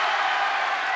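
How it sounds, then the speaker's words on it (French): A brief, dense wash of audience applause, steady and fairly loud without a break, with no speech over it. "Applaudissements, quelle chaleur"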